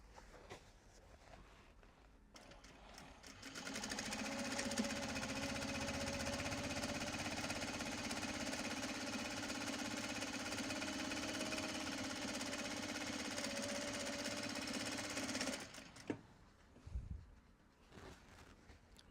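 Sewing machine stitching Japanese fabric and canvas bag panels, a fast, steady mechanical whirring and rattle that runs for about twelve seconds and then stops, with quiet handling noises before and after.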